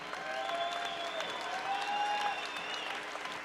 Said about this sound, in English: one more round of applause for a great fight